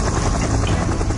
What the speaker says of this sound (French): l'hélicoptère les dépose sur l'île